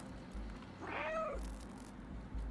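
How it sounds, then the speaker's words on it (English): A cat character in a video game gives a single clear meow that rises and falls, standing alone over a low, steady game background hum. "Oh, so the meow gives you a hint?"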